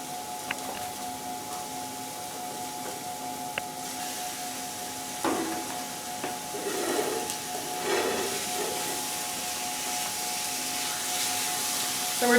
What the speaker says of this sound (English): So we're just going to break up the meat into small bits and let that saute until there's no more pink left.